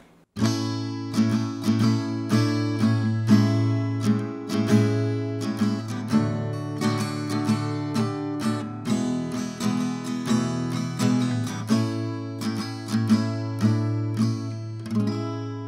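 Acoustic guitar strummed and picked in a steady rhythmic pattern, full and resonant with a strong low end, playing continuously without any voices.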